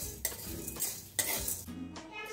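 Moong and moth beans dry-roasting in a pan over low heat, with a spoon scraping and clinking against the metal in several close, uneven strokes and faint background hiss.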